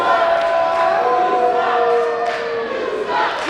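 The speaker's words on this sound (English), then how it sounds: "And the crowd here chanting, "You suck,"" Wrestling crowd at an FSPW Gate City Battle show in 2023 chanting a taunt in unison, a dense, steady roar of many voices with a rising and falling sung pitch, loud and sustained throughout.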